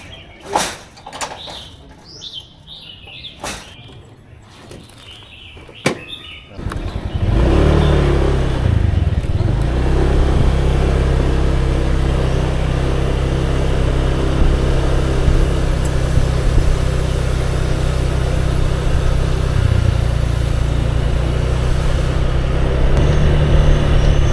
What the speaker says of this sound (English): riding a motorbike around the countryside is one of the simplest ways to enjoy the day